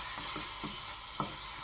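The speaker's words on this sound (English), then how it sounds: "Let's just stir that in." Tamarind being stirred into sambal goreng chili paste in a pan, a soft steady sizzle with a few spoon scrapes against the pan.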